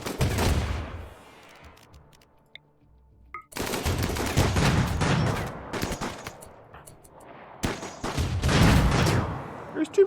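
Rapid bursts of automatic gunfire from a RimWorld battle hammer at a defensive turret, loud and dense in several long volleys separated by a quieter gap.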